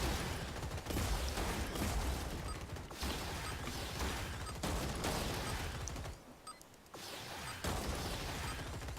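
Rapid shotgun fire in the robot combat game Gladiabots, dense bursts of blasts and mechanical clatter running almost continuously with a brief lull, loud and close, no talking.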